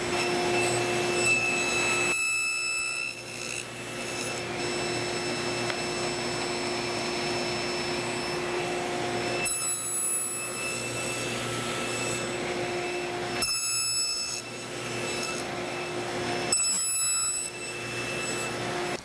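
A saw blade raised to one inch makes box joint test cuts in wood, its motor whine steady and loud throughout, with the cutting noise swelling in several short bursts.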